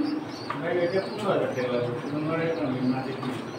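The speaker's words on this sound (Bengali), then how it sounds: "এগুলো বড় সাইজের কবুতর" Large pigeons coo steadily and close by, with voices talking over them.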